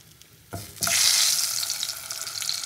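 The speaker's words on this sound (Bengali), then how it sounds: "প্রথমে আমি আলুগুলোকে একটু সুন্দর করে ভেজে নেবো" Potato pieces hit hot oil in a kadai while katla fish masala curry is being made. After a couple of soft knocks, a loud, bright sizzle bursts up and holds steady, fading slightly toward the end.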